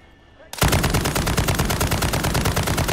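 Rapid automatic gunfire in the Call of Duty MW3 Zombies mode erupts suddenly after a quiet moment and continues as a loud, dense stream of shots aimed at enemies.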